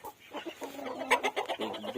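Rooster in a backyard poultry pen with ducks and geese, giving a short run of close, fairly quiet clucks with a faint voice underneath.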